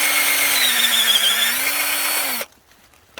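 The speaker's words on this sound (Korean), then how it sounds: "직접 구멍을 뚫어서 여기다가" A power drill whines steadily and loudly while boring a hole into a birch log for shiitake spawn, then cuts off abruptly into near silence.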